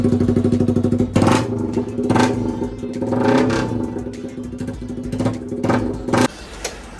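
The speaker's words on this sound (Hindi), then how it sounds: "आप करते हैं एग्जॉस्ट के साउंड ट्राई" Yamaha MT-15 motorcycle fitted with an SC Project exhaust, loud and close, blipped in several sharp revs that rise over a burbling idle and fall back, alone with no speech.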